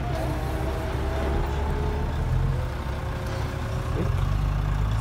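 A truck engine rumbles steadily at close range, a low continuous drone with a faint whine and brief tonal shifts through the passage, with no talking.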